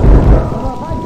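Thunder rumbles loud and close amid rain during a lightning strike in The Darkness 2 video game. It forms a heavy, brief low roll with steady rain noise on top and no voices over it.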